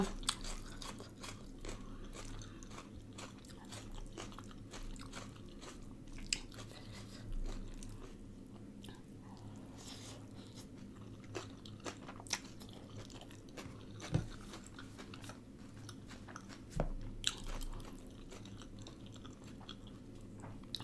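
Close, steady chewing and biting of spicy Thai ramen noodle salad with pork sausage, with soft crunches, wet mouth sounds and small clicks repeating irregularly throughout, no talking.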